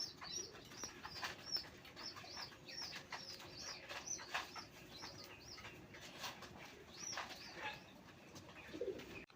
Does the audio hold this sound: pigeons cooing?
yes